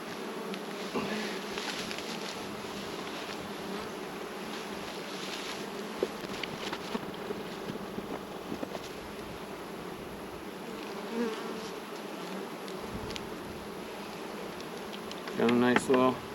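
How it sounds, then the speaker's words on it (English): A ball of honey bees swarming on the front and back of a hive makes a dense, continuous buzzing hum close by, with faint voices and a brief louder rustle near the end. "Big old ball of bees on the front and back."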